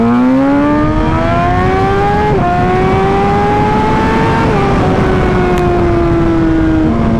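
A Yamaha R1 motorcycle accelerates hard, its high-pitched engine note climbing through the gears with brief dips at each shift, loud and close over strong wind noise.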